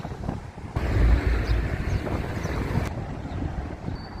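Gusty wind buffets the microphone on a seaside stroll through the royal harbour town of Ramsgate, a loud low rumbling roar that swells and fades irregularly with faint distant background sounds and no talking.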